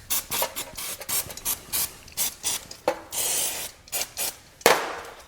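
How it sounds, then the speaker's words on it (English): Brake pads and clips from a Honda CB500X rear brake being scrubbed with a toothbrush and brake cleaner, giving repeated short bristly rasping strokes close up, with a brief spray burst near the end. "You can use the brake cleaner to clean up the pads, and a bit of a toothbrush I have here."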